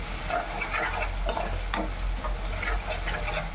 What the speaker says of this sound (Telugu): ఈ పచ్చి వాసన పోయేదాకా అల్లం చిన్నపాయ వేయించుకోవాలి